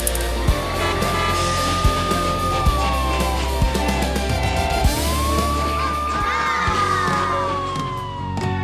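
Cartoon ambulance train siren wails in rising and falling sweeps, loud and close, layered over rhythmic clacking and a steady low rumble of a train on its way to hospital.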